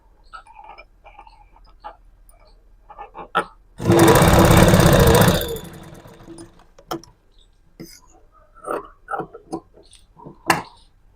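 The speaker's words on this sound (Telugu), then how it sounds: "రెండు సమానంగా పట్టుకొని కుట్టు వేసుకొని రండి." A sewing machine stitches the front part of a blouse in a steady, loud whirring run of about two seconds, framed by light clicks and handling of fabric before and after.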